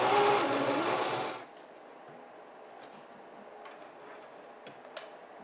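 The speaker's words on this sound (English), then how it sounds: "Now that I have this piece pinned in place, I'm ready to sew it." A sewing machine stitches fabric for a makeup brush roll in a steady, close whirring burst of about a second and a half, then stops, leaving a quiet room with a few faint clicks.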